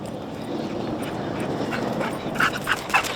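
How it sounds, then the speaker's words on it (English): A search dog whimpers and yips excitedly on finding a person during a demonstration, brief whines rising near the end, close and fairly loud with no talk. "Here's a demonstration of a search dog finding someone."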